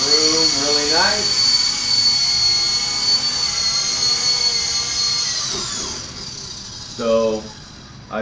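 Novus FP200 RC mini helicopter flying indoors, its high steady rotor and motor whine running throughout, with someone talking over it and the pitch shifting as it maneuvers and lands.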